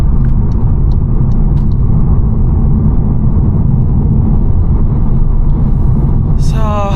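A 2025 VW T-Cross compact SUV with a 1.0 TSI 116 hp engine and DSG gearbox drones steadily while driving, a continuous low rumble filling the cabin with little change in level.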